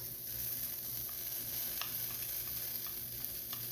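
Garlic and celery stir-frying in a hot pan for beef lo mein, a steady close sizzle with a few light stirring scrapes and clicks running throughout.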